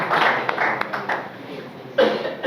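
An audience at an arts and culture forum in Yeumbeul Nord applauds the editorial team, a steady wash of clapping that dips midway and swells again near the end, with faint voices underneath.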